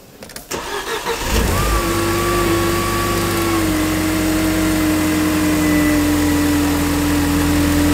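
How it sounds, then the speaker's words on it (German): A VW Tiguan engine cranks and catches after a brief clatter, then settles into a loud, steady idle with a thin whine riding over the even hum, alone without voices. "ich starte mal und wir hören uns mal den Motorlauf an"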